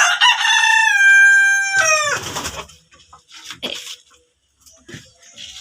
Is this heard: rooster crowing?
yes